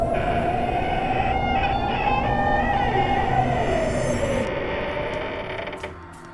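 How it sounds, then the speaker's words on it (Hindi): Creaking and grinding mechanism of gates swinging open on their own as a horror sound effect, a long sustained groaning creak with ratcheting texture, steady and loud, fading toward the end. "तभी कुछ देर में सभी गेट अपने आप खुलने लग गई।"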